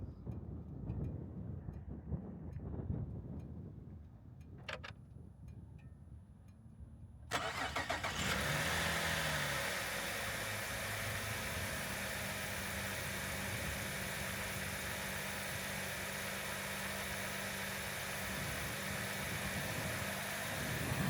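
A Cadillac CTS (2008-2013) engine cranks and catches after an oil and filter change, then settles into a steady, continuous idle that runs loud and unbroken to the end.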